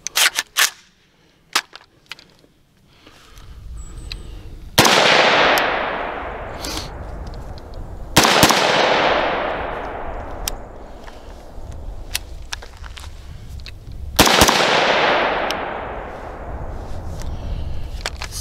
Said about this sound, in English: About to take a couple of shots and see how the buffer tube assembly holds up.